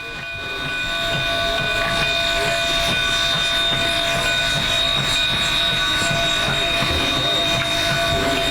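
A K-36 narrow-gauge steam locomotive hisses and chuffs as it rolls, with a steady whistle-like tone over rhythmic rumbling that swells in at the start.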